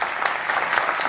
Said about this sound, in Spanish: Fuerte de nuevo el aplauso para ella.